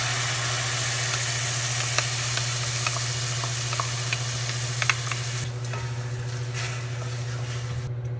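Tomato paste mixture goes into hot oil with spluttering mustard seeds for Indian tomato rice, a steady loud sizzle with scattered crackles and pops throughout, heard alone.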